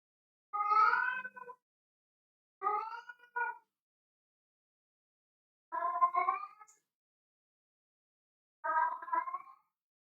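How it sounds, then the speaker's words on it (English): A cat meows four separate times from somewhere upstairs in a quiet house, each drawn-out, wavering call spaced a couple of seconds apart against near silence. "I don't know if you can hear my cat. Yeah, he's singing in the background."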